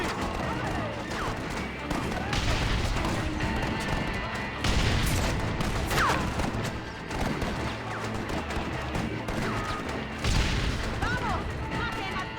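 Gunfire and blasts in a battle in the video game Red Dead Redemption, with an exploding wagon convoy: dense, continuous shooting and booms filling the whole stretch, loud and close, with shouting voices mixed into the chaos.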